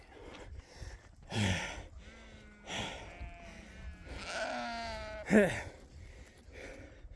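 Sheep bleating in a flock being moved to new grass, several wavering calls scattered among breathy grunts and soft background noise, fairly close and moderately loud.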